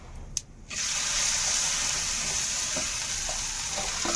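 Potatoes drop into a hot non-stick-free wok with oil, turmeric and spices, a brief clatter giving way to a sudden loud, steady close sizzle and spattering with occasional stirring.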